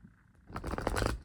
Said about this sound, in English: Let's shuffle a couple more times.